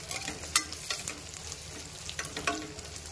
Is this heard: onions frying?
yes